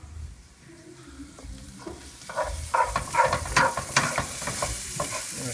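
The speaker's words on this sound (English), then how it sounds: "I'm gonna stir that all around." Ghee sizzles and crackles in a hot pan while being stirred, with scraping and frying hiss building louder after the first couple of seconds, close and unvoiced.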